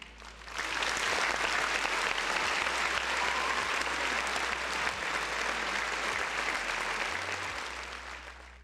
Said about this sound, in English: Round of applause to Luca.